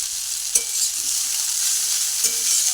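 Chowmein noodles are stirred in a frying pan over a steady, close sizzle, with two sharp scraping clacks of the utensil against the pan and softer shuffling in between, no voices.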